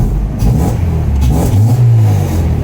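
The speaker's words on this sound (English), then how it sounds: "I just revved it and that was like boom" Car engine revving hard on a car being tuned, a loud close mid-pitched roar rising and falling in quick bursts without any talking.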